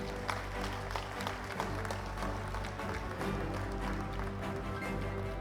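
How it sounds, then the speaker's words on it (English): An audience at an awards ceremony applauds as trophies and certificates are handed out, a steady wash of many hands clapping at close to middling distance, sustained throughout. "Can we hear a round of applause?"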